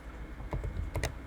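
Several quick keystrokes on a computer keyboard, close and clear, in two small bursts of clicks over a quiet room hum.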